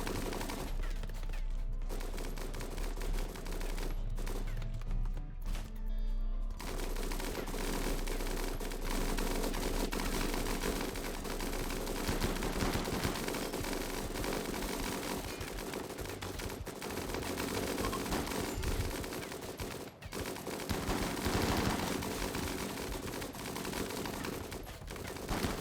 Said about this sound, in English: I just want to see these miniguns go off on those tribals.